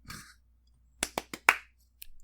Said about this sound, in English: That's the Friends clap